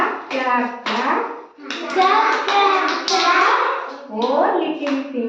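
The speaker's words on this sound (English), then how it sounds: "clap clap clap" Children clap their hands in a classroom finger-counting rhyme, a few sharp claps mixed in with kids' chanting voices that dominate throughout.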